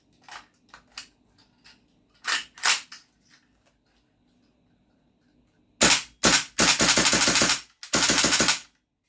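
A GHK AKMN airsoft rifle running on propane gas fires nearby, starting with a few soft clicks and then cracking off loud single shots and short rapid bursts.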